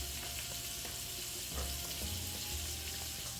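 Shrimp sizzling in a pan while pasta with peas and pancetta is prepared, a steady close hiss of frying with faint clinks and a low rumble, no one speaking.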